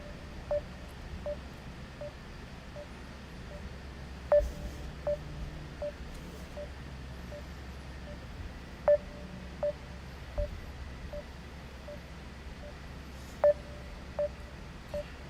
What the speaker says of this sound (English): So anyway, I want to dial up my boy Mark Edwards and get him on the show.